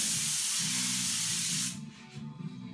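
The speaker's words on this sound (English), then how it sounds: "We're going to shoot this on." An Iwata LPH 50 spray gun sprays paint onto a Harley fender, a loud continuous close hiss for under two seconds that cuts off abruptly, leaving quiet room tone.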